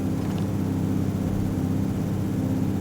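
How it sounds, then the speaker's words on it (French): Loud, steady engine drone from a machine in the video game Everwind, a constant low rumble filling the whole stretch without pause or talk. "Ça fait beaucoup de bruit le moteur, hein, je trouve."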